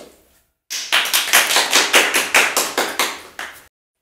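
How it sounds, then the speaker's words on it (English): Hands clapping in a steady run of about a dozen sharp, evenly spaced claps, loud and close with no voices, during a children's rhyme session at a library. "Clap your hands together, one, two, three."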